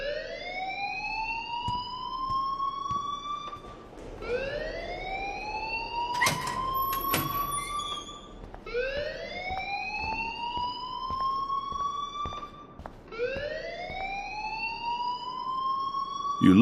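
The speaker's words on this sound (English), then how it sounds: "please turn off that alarm since that's your job." An alarm in the video game Life is Strange rings as repeated rising electronic wails, each sweep climbing over a few seconds before restarting. It is loud and steady throughout, with a few sharp clanks mixed in.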